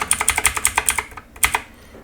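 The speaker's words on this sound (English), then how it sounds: "we can move it with our arrow keys and just move it into place" Computer keyboard arrow keys are pressed in a quick, even series of about nine crisp clicks, then a short pause and two more taps, close and clear with no talking.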